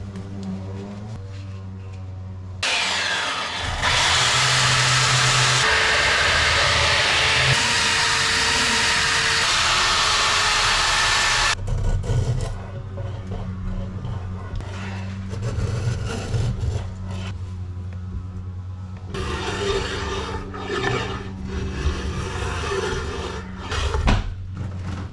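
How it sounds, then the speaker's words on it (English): A small belt sander works a hand-carved wooden canoe paddle: a loud, steady whirring grind of about nine seconds, then quieter intermittent rubbing and motor hum with lower-level shop noise. "I got another tool to help me out. A little belt sander."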